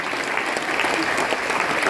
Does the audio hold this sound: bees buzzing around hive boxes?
no